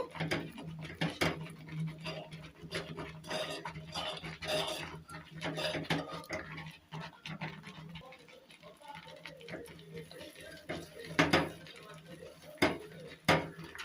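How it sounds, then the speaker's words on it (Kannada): Gram flour stirred into an amla laddu mixture in a pan, with a spoon scraping and clattering steadily against the metal, and sharper knocks near the end. "ಸ್ವಲ್ಪ ಸ್ವಲ್ಪನೇ ಹಾಕ್ಕೊಂಡು ಇದನ್ನು ತಿರುಗಿಸ್ಕೊತಾ ಇರಬೇಕು"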